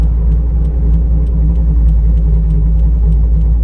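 A C5 Corvette engine drones steadily with a low, heavy rumble from its loud exhaust, constant and loud throughout, with no voices.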